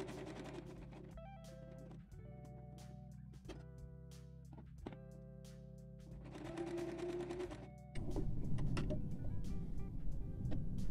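A sewing machine stitches fabric squares for patchwork in several rapid whirring bursts with brief pauses between, and a louder, busier stretch of running near the end.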